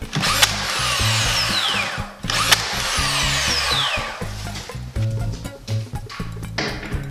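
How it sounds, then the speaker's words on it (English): An 18-volt battery dual nail gun drives inch-and-a-half nails during a door installation: a pair of sharp, loud nail-driving bursts, each followed by a short tool whir, with knocking and handling noises between them. "a dual nail gun, 18 volt battery"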